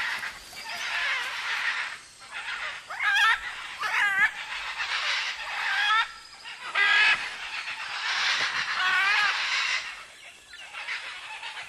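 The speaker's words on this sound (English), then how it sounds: "The young, non-breeding pairs and adolescent birds gather and playfully squabble in the palm trees" Great green macaws squawk and screech repeatedly in palm trees in harsh, overlapping bursts, a noisy squabbling chorus with short pauses between outbursts.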